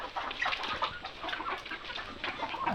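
Several Kaveri chickens cluck in overlapping calls on a poultry farm, a steady busy chatter with no clear pauses.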